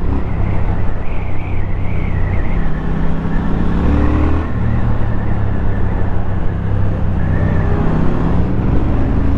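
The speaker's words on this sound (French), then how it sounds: "quand je réaccélère, ça fera très très bien. Et le son d'origine est quand même plutôt correct." A Triumph motorcycle with its stock exhaust accelerating on the road, a loud steady engine roar with rising revs and some wind noise, heard close throughout.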